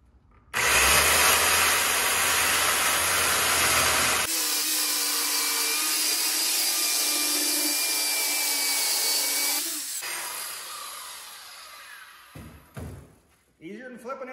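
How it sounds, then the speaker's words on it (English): Circular saw on a Prazi guide rail ripping through old barnwood beam stock for a plywood-core table, a loud sustained whine and cutting roar lasting about nine seconds with a pitch change partway, then winding down into handling clatter. "All I'm gonna do is put this saw up on there and grab the trigger and cut through."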